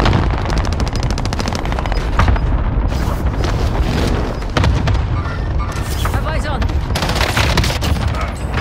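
Hostile gunfire in a Warzone battle crackles almost nonstop, loud and close, with rapid automatic bursts, heavy booms and explosions layered over one another, along with some talk.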